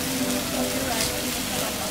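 Steady rain falls at Uluru in Australia's outback, a continuous even hiss of drops on surfaces throughout, with a faint murmur of voices in the background.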